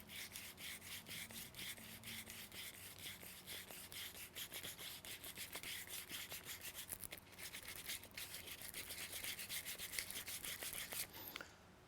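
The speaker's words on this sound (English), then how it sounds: "I get my eraser, my rubber abrasive cleaning stick." Steady, brisk rubbing and scrubbing against a gritty surface, a rubber cleaning stick worked back and forth over sandpaper, close and continuous, ending abruptly.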